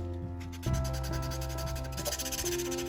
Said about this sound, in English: we just go over that with some sandpaper, get rid of the Access. glue.